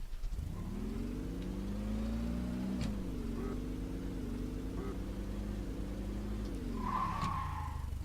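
TAC Boston car in a brick-built car game braking hard from 40, tyres screeching in a long skid over a droning engine note that dips in pitch, a sharp click partway through.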